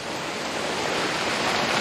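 Dense, steady hiss of heavy rain pouring down outside a garage, a continuous broadband wash with no breaks, close and fairly loud.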